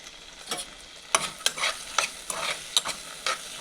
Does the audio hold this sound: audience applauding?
no